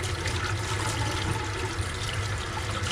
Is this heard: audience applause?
no